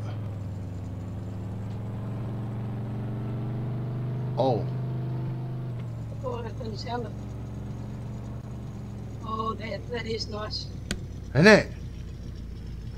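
A truck engine in Farming Simulator 22 runs at a steady idle for most of the stretch, with a few short revs breaking through while someone speaks over it.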